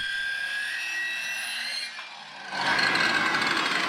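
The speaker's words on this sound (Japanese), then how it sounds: "ここにね、丸ノコで切れ目をバーッと入れていって" Worn-blade circular saw cutting kerfs into wood for replacing a house foundation sill, a loud steady motor whine that dips briefly and then surges into a harsher, broadband cutting roar, close and without talk.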